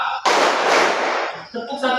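Workshop participants clap a counted beat together, producing a single loud, dense burst of many hands that lasts about a second, set between stretches of a person speaking.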